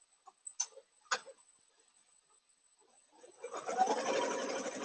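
An embroidery machine sews a Spider-Man applique satin stitch: a few sharp clicks, then a quiet pause, then the machine starts up with a fast, even stitching chatter.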